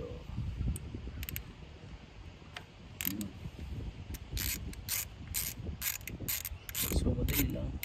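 A wrench works a bolt loose on the ignition coil of a 2011 Toyota RAV4, giving repeated rapid ratcheting clicks in bursts over a steady background hum in a garage setting.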